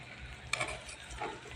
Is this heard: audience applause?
no